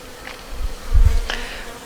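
Honeybees from a big swarm buzz loudly on hive frames, a dense continuous drone that swells to a close, heavy peak midway before settling back.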